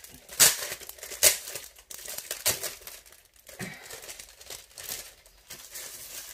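Decorative 30x30 cm scrapbook papers crinkle and rustle as they are handled up close, with sharp crackling bursts near the start and a steady papery shuffling that carries on throughout, no voices.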